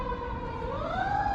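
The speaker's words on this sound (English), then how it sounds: "I'll let this ambulance pass because this ambulance just doesn't want me to be great right now" An ambulance siren wails past on a street, its steady pitched tone sliding gradually as the vehicle moves by, loud and close with road rumble underneath and no talking.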